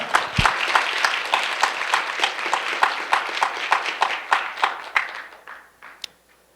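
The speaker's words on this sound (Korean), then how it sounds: "박수 부탁드립니다." A small audience at an education office curriculum showcase claps to welcome an introduced guest, a steady patter of close hand claps that thins out and fades near the end, with one last clap.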